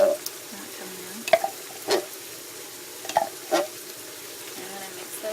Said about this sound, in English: I'm going to mix those in.